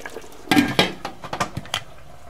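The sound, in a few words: korma cooking in a covered pot on low flame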